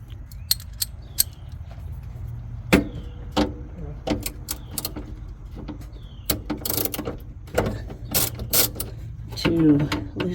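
Ratchet fitted with a 13 mm socket and extension loosening battery cable nuts during a lithium battery and inverter install: scattered sharp clicks and metallic ticks, close and intermittent, over a low steady hum.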